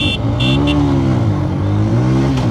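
Bajaj CT 110x and TVS Victor 110 motorcycles accelerating hard in a top-end race, a loud, close engine drone whose pitch climbs and dips through gear changes without pause.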